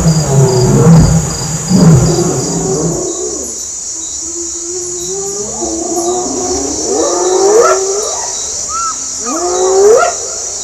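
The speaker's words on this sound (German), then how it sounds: "Nach Sonnenuntergang hören wir nahe unserer Hütte erst Löwen," Lions and then hyenas call at night near a hut after sunset. Low, heavy calls come first, then rising, whooping cries repeat at a distance over a steady hiss of insects.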